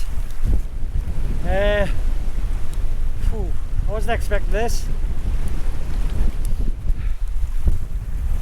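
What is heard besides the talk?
strong wind at a lough in the mountains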